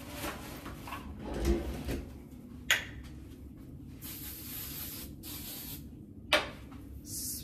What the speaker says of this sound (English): spray my wispies down right here